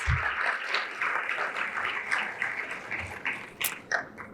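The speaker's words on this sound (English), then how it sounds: "Let's have another round of applause for Jenny." A ceremony audience applauds a Hall of Fame inductee at the IWLCA awards, a steady, moderately loud wash of clapping that holds for several seconds with a few sharper claps standing out near the end.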